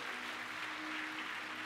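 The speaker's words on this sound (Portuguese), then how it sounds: "Você pode aplaudir" A crowd at a church service claps steadily in a dense, continuous burst of applause.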